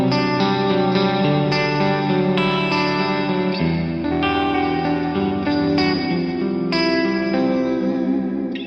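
A clean electric guitar tone from an Archetype amp plugin plays a sequence of ringing chords with lush echo and chorus-like shimmer, each chord change clearly marked and the sound loud and continuous.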